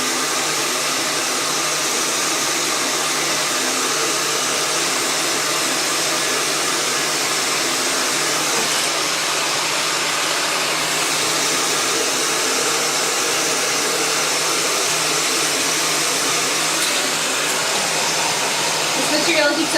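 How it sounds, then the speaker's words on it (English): A heat gun runs with a steady, loud blowing roar for the whole stretch, warming a prosthesis inner liner so the outer socket stays cool, with no pauses or talk. "so I can heat up the inner liner and it won't heat up the socket"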